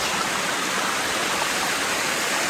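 Rajagiri waterfall in Odisha, a steady broadband rush of falling water that fills the clip evenly and closely, with no voices.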